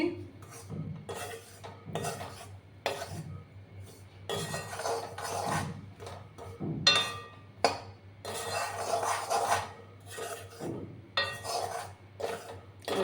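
Atta flour is stirred and roasted in a pan, with a metal utensil scraping and clinking against the pan in an irregular rhythm, up close.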